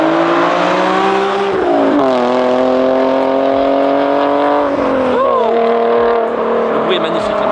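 Nissan 370Z Nismo with a full straight-pipe exhaust heard from outside, its engine revving loud and close in long sustained pulls that rise and dip over several seconds, with people talking over it.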